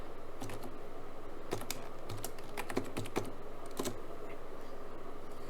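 Fingers typing a username and password on a computer keyboard while creating an Oracle database user, with scattered clicks in small bursts over a steady low hum, near and fairly quiet, no talking.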